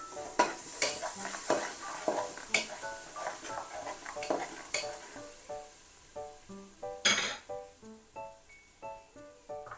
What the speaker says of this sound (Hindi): और साथ ही हम इसके अंदर दही ऐड कर देंगे।